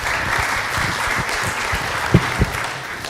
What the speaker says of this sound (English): we have to give them a warm and loud applause to Dr.